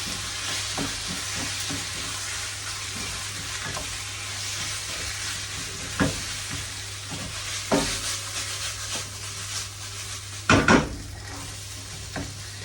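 About two heaped tablespoons of curry paste fry in a pan with a continuous sizzling hiss, punctuated by several stirring scrapes and spoon knocks that grow more frequent toward the end; nobody speaks.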